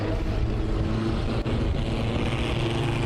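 Mini stock race cars roar at full throttle on a speedway restart, a dense, loud, continuous engine drone with a heavy low rumble.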